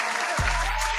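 Applause sound effect dropped into a sports podcast, a steady wash of clapping over a low droning hum, loud and continuous for about a second with no talking.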